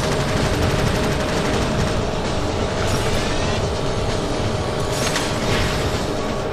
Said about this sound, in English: useless machine guns